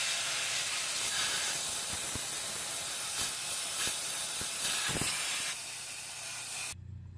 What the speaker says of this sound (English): use a steamer, have a nice cloth to wipe it up, and you simply just steam away the dirt and grime